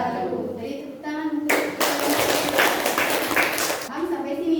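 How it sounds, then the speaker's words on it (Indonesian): Classroom applause from a group of students, a dense burst of clapping lasting about two and a half seconds, set between stretches of talking. "Jadi tepuk tangan."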